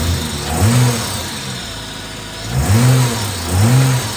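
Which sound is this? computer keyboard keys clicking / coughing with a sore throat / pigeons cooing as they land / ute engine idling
ute engine idling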